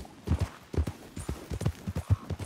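A horse gallops in Red Dead Redemption 2, its hooves striking in quick, uneven clusters of heavy, close thuds, loud and without speech.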